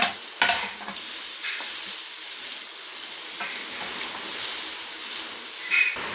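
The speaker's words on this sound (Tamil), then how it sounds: "இப்போ வெங்காயம் ஆட் பண்ணுறோம். இது நல்லா பொன்னிறமாக வரையும் வதக்கிக்கலாம்." Onions frying until golden in a pan give off a steady, close sizzle with a constant hiss throughout, broken by a few louder crackles and stirring scrapes near the start and end.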